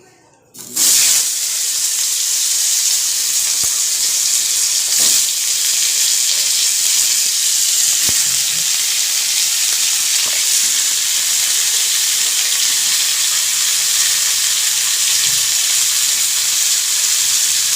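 Vegetables tipped into hot oil already tempered with black cumin (kalo jeere) after frying lentil badi, giving a loud, steady, close sizzle that starts abruptly and holds at a constant hiss throughout.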